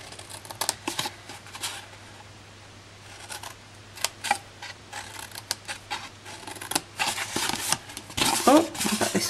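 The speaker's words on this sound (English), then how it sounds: "we are just going to snip up each of the score lines along the long side and just notch those out very slightly" Sharp Stampin' Up paper snips cut score lines along the long side of card stock, giving a run of quick, crisp snips and small clicks scattered between quieter handling sounds.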